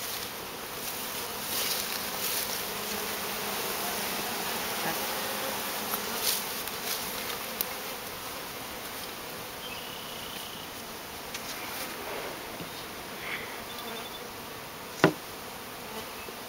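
Bees buzzing steadily in a dense, continuous drone during the installation of a package into a hive, with a few faint knocks and a sharp tap near the end.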